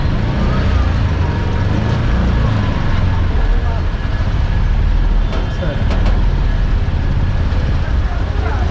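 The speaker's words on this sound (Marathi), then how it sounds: "इकडे ट्रॅफिक जॅम झाला आहे सालीवाडी नाका" Traffic jam at Saliwadi Naka junction in Mahad, with a dense, constant roar of nearby engines and road noise, plus a brief cluster of horn toots midway.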